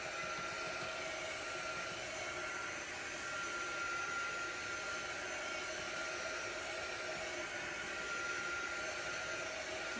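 A hair dryer blows continuously at a steady pitch, drying a freshly painted craft piece with an even, close whooshing roar throughout.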